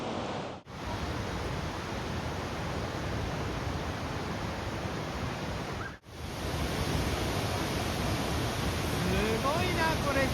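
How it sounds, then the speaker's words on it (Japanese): Ithaca Falls, a powerful waterfall beside a residential area, sends out a dense, loud, continuous roar of rushing water, steady and close throughout, with brief cuts in the sound. "ここで滝に打たれたりしたら多分複雑骨折をしそうなぐらいパワフルな滝なんです。"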